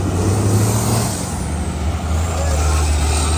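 A bus with air brakes at a bus race, its loud low engine rumble and drone running steadily throughout, close and continuous, with crowd and track noise around it and a voice heard briefly.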